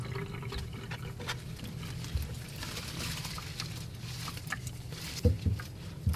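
Water pours steadily into the soil of a potted Calathea, a soft continuous splashing and trickling with occasional small knocks, close and fairly quiet.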